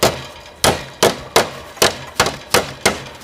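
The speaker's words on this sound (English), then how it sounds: "simply take a hammer and peen over the ends of it so they are not poking up" A hammer peens over the ends of metal greenhouse tunnel track, giving about nine sharp, loud metallic strikes at a steady, slightly uneven rhythm, close up with no talking.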